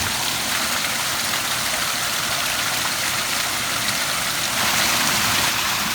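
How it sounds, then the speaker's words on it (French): A waterfall in a Belgian forest in autumn, a steady, close, broadband rush of falling water that holds constant throughout and swells slightly near the end. "Comme quoi il y a des cascades en Belgique"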